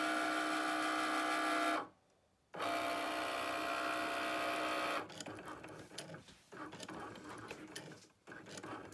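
A Cricut Maker fitted with a Foil Quill tool runs with a steady close motor whir, halts briefly, restarts, then shifts to more uneven whirring movements with short pauses.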